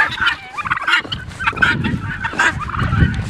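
Several turkeys gobbling close by in a farmyard at dusk, rapid bubbling gobbles repeating in quick bursts one after another, with no talking over them.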